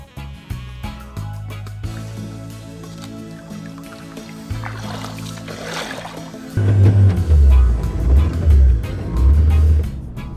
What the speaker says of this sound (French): Seul le bruit de notre moteur vient troubler le silence du lieu